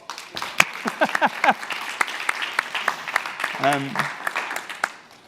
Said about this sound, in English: clap for Spot